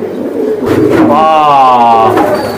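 A pigeon's throaty call rises out of a busy pigeon market background, with a layered, warbling tone that lasts about a second and a half. Voices murmur around it.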